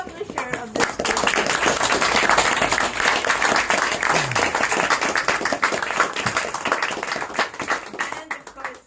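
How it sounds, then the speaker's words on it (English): Audience applause at a bookstore book event welcoming a publisher, a steady crowd of clapping filling the room for several seconds with voices and chatter mixed in, tapering toward the end. "Could I have a round of applause, please, for the wonderful Jana"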